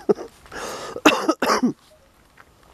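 Hoarse, chesty coughing from someone with a cold that has moved up into the head, a few rough coughs and throat-clearing bursts close to the microphone, separated by short quiet gaps.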